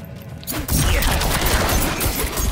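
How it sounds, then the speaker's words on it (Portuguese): A Rogue's Barrage skill in Diablo IV fires a dense, loud volley of rapid projectile impacts that starts abruptly after a quiet half-second and continues as a sustained crackling burst. "Eu vou experimentar aqui este barragem, a ver."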